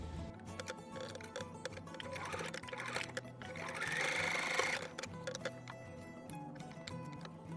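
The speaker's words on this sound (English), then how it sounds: "I'm simply just stitching on the top of this pleated panel in a V shape" A sewing machine runs steadily while stitching across the top of a pleated fabric panel for a V-neckline cover, a close, even mechanical whir and ticking that swells briefly in the middle.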